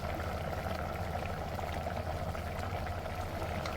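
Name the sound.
water poured into boiling sambar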